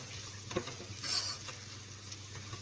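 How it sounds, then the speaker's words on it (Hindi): Garlic paste frying in a pan for aloo matar curry, a soft steady sizzle with occasional scrape and clink of a spoon stirring, fairly faint and close, with no talking. "लहसुन हमारा भून चुका है।"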